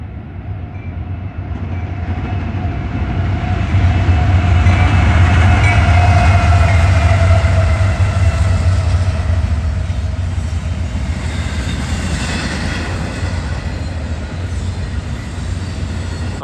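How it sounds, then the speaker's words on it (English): A Norfolk Southern intermodal train led by three AC44 locomotives sounds a long, loud horn over the steady heavy rumble of the passing train, the horn swelling then fading while the rumble continues. "that horn belonged to this Norfolk Southern Intermodal led by, guess what? 3 AC-44s"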